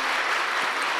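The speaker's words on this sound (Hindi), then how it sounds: "जोर से ताली बजाओ हम सब" Steady applause from a gathered audience at a spiritual gathering, a dense even wash of clapping filling the whole moment without pause.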